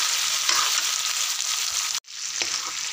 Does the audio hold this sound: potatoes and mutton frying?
yes